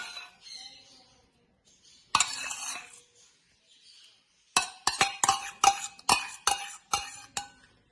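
Curd goes into a chicken curry masala and gets stirred: a soft pour and scrape, then a run of sharp, rapid spoon clinks against the pot, close and distinct, with quiet gaps between.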